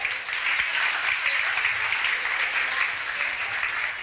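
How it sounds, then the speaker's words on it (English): Audience applause at a community commemoration event honoring Roberto and Vera Clemente: steady, dense clapping from a crowd, fairly close and sustained at an even level throughout, with no break. "Please give yourselves a round of applause."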